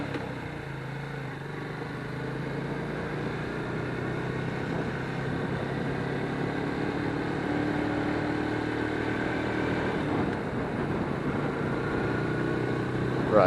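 A Lifan KP Mini 150 motorcycle is ridden along a road, its engine a steady, continuous drone with a gradual swell in level through the ride and a brief bump at the end, heard close with no talk.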